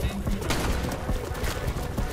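Rapid gunfire from ARK: Survival Evolved, a dense run of overlapping shots through two seconds, loud and steady with no clear gaps.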